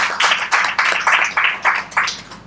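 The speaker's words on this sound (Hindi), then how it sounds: "तो सर के लिए जोरदार तालियां।" An audience at a diabetes-day medical webinar claps for a doctor, producing loud, fairly rhythmic bursts of applause that carry on steadily without talk.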